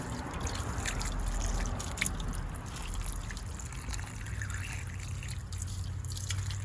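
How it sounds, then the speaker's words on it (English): Water is poured onto a potted pepper plant cutting, a soft hissing trickle and patter of liquid soaking into soil, fairly close and continuous, with faint background noise. "Let's give this a little bit of water."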